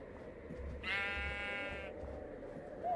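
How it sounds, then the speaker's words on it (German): A single bleat from an ice sheep in the video game Minecraft, a short wavering nasal cry lasting about a second, heard over a steady low ambient hum. "Auf jeden Fall sind das Eiskühe und Eisschafe."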